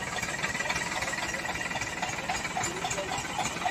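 Eicher old model, Eicher 241 NC and Farmtrac 45 tractor engines strain together to pull a stuck trolley, a steady loud diesel drone with knocking, rattling texture running throughout without pause.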